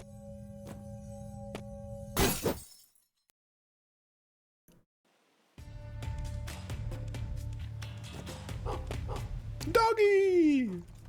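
Barks and whimpers from a dog in the pixelated steampunk Metroidvania game Gestalt: Steam and Cinder, set over game music, with a short silent gap midway and a rising yelp near the end.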